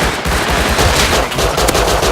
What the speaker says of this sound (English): Whoever's shooting,